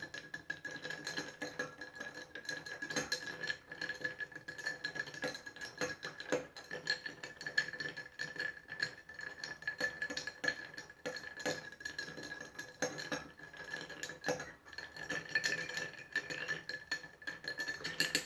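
Ice is stirred in a mixing glass for an Old Fashioned cocktail, giving a soft, continuous clinking and rattling that stays faint and steady throughout, with no voices.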